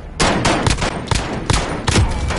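Rapid bursts of video game gunfire, several loud sharp shots in quick succession with irregular rhythm, close and dense, with no talk over them.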